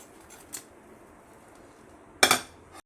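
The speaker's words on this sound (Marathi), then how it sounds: "हे भाजलं आहे आता हे काढायचं आहे सर्व करण्यासाठी असं काढायचं आहे प्लेटमध्ये" A crispy fasting dhirde pancake is lifted out of a pan and put on a plate, with a light scrape early on and a sharp metallic clatter of utensil on pan near the end, otherwise quiet.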